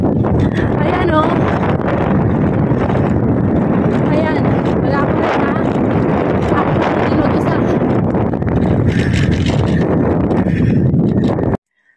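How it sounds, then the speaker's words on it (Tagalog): Loud, constant wind roar buffets the microphone during a motorcycle ride on a road against a headwind, with an engine running and occasional shouted speech mixed in. "Lakas ng hangin!"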